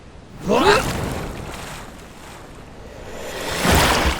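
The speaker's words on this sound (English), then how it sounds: "Let's quickly hop this boat to the other waterfall." A boat moving over water in a video game, with a soft steady wash of water and wind and two louder surging splashes near the start and end.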